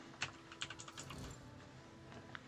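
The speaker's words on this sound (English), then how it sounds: "Helps if I use the right keyboard" Keys clatter on a computer keyboard during a new gaming setup test, a short burst of several sharp taps followed by quieter scattered strokes, close by with faint background hum.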